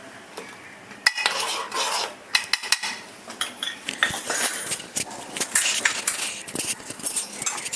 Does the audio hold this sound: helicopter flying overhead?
no